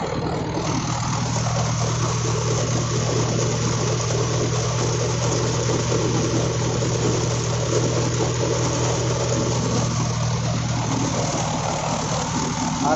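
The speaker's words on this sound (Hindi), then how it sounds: "ट्रैक्टर के आरपीएम दिखाता हूँ आपको।" Mahindra Yuvo 575 tractor engine driving a three-fan thresher outdoors on a farm, a loud, steady mechanical drone with a constant low hum that continues unbroken throughout.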